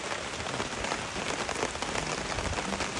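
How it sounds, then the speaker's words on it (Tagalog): Heavy afternoon rain at a farm with a bamboo house, falling as a loud, dense, steady patter throughout with no voices. "Alas 3 ng mandang hapon ay biglang lumakas yung ulan."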